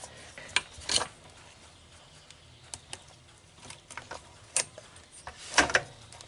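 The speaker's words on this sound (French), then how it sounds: "je coupe l'horizon qui est là et je dégage le caoutchouc qui protège la commande de sélection des vitesses" Cutting a hose and working a rubber boot free from the gear selector linkage on a Renault Twingo gearbox, with scattered sharp clicks, snips and metallic knocks close by, no talk.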